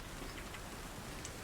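Steady rain pours down outdoors during a night-time storm, a dense, even hiss of drops on surfaces with no break, a few sharper patters standing out near the end.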